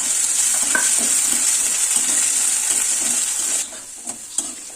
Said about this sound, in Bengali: আলুগুলো আমার একটু ভাজা ভাজা হয়ে গিয়েছে